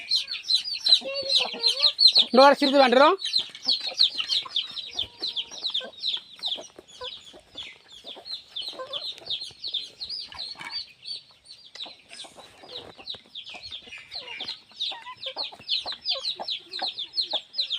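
Chickens cluck and chatter steadily while feeding, with busy pecking and scratching, a brief burst of louder squawking near the start, and a few spoken words.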